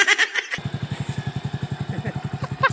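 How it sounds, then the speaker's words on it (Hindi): A motorcycle carries riders on a road journey from Rourkela toward home. After a brief voice, its engine chugs in a steady, rapid pulsing rhythm, close and continuous. "चला एक बाइक में निकला वहाँ से"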